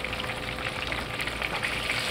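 A fresh batch of fish sizzles in hot oil for Fish Pollichathu. The frying makes a steady, close crackle and hiss with fine popping, and no voices are heard.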